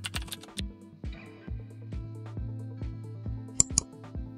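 Fingers tapping on a computer keyboard during graphic design work, a series of close, distinct keystrokes at an uneven pace, with a quick double click near the end.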